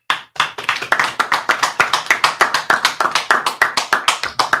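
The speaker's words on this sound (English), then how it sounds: "Clap it up." A group of people clapping their hands in a steady, even rhythm, loud and close, with many sharp claps in quick succession and no talking.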